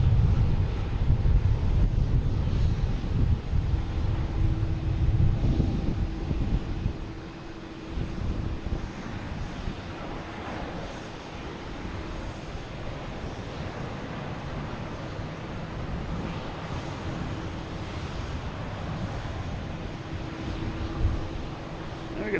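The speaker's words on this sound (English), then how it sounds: "We got Spirit Airlines here heading to Fort Lauderdale. A321." Spirit Airlines Airbus A321 jet departing Boston Logan, a loud broad engine roar that is strongest at first, then eases into a steadier, fainter rumble with wind buffeting the microphone.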